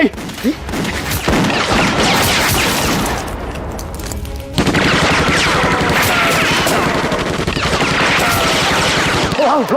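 Heavy gunfire rattles almost nonstop, dense overlapping shots and booms that briefly ease midway before surging loud again.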